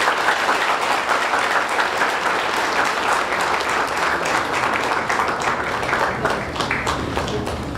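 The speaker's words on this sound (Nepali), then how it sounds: "हामी ताली बजाएर उहाँलाई स्वागत गर्दैछौँ" Steady, dense applause from a wedding crowd welcomes the mother onto the stage, loud and sustained with no pauses for nearly eight seconds.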